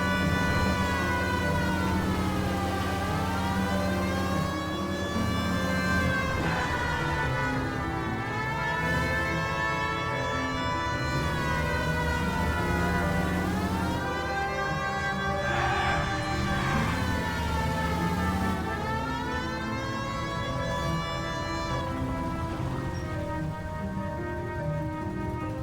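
A police car siren from the video game L.A. Noire wails continuously in rising and falling sweeps, loud and close, with traffic engine noise underneath and no talking.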